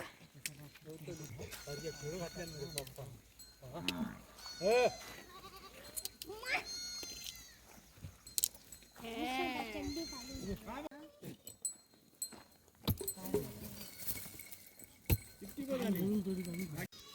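Goats bleat again and again, some near and some farther off, with people talking at times and a faint clink of metal.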